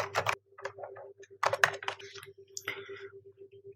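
Keys on a computer keyboard are tapped while entering a name into a table in MS Word: light, irregular bursts of close clicks over a steady low electrical hum.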